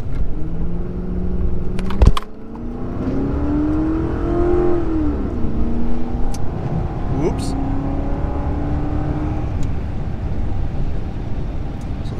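Ford Crown Victoria with a Ford 8.8 locking differential accelerating 0-60 in the rain, wipers running: engine drone rising and shifting pitch through the gears, with a sharp click early on and background voices.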